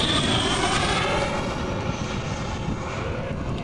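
Dassault Rafale fighter jet at an air show, a loud sustained jet roar sweeping past and slowly fading as it moves away, heard with no talking.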